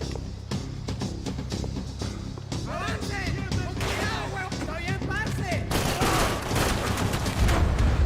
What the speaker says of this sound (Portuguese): De onde que esse cara tá atirando?